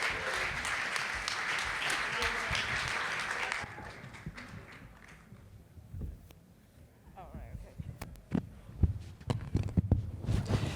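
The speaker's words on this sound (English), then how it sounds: "please give all four of them a massive round of applause" An audience at a Sydney tech conference panel applauds the four speakers, a broad wash of clapping for several seconds that fades out, then scattered taps, shuffling and movement noises close by.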